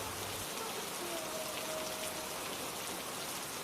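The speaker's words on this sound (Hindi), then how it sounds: "बाहर बारिश पहले से भी तेज हो चुकी थी।" Heavy rain pours down outside a house, a dense, even hiss of drops falling steadily on surfaces without letup, alone and with no voices.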